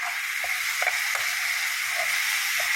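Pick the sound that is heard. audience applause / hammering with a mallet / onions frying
onions frying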